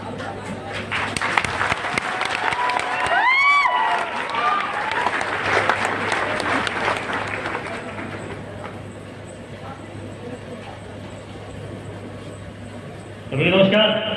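An audience applauds loudly and steadily for several seconds at an indoor gathering, the clapping gradually thinning out, followed by a brief burst of voices near the end.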